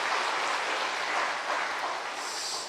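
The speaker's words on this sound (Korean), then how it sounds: "우리 격려의 박수 한번 하겠습니다." A church congregation at a Sunday service applauds warmly and steadily, a dense wash of clapping from many hands that holds without a break and fades only slightly at the end, with no speech over it.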